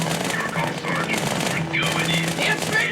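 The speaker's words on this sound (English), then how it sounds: "you'll have 2 SMGs at this point, 1 in each hand, and you will begin to tear into the grunts with your 2 SMGs" Dual-wielded SMGs firing in Halo 2, rapid continuous automatic bursts chattering in close succession with a brief pause midway, loud and close, with faint background voices or effects underneath.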